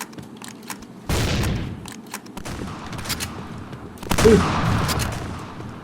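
Gunfire in the shooter game Point Blank comes as a few sharp, loud bursts with a blast near the start and another near the end, and quieter game noise fills the gaps between them.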